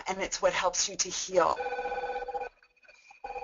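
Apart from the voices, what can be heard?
mobile phone ringing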